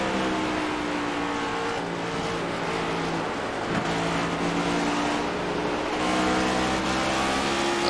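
A NASCAR Next Gen race car in iRacing at Richmond Raceway gives a continuous loud engine drone under load. The engine note rises and dips gently as the throttle is modulated, with the drone unbroken throughout.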